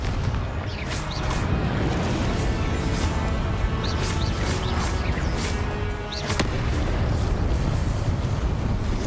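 Hogwarts Legacy Confringo spell blast: a loud, dense rumbling explosion roar that fills the whole stretch, with brief sharper crackles on top, no voices.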